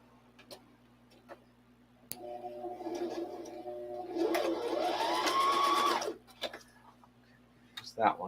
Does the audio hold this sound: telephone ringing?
no